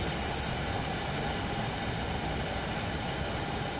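A train in Train Sim World 3 rolls toward a station as a steady, dense rumble of wheels and motor that holds constant without a break.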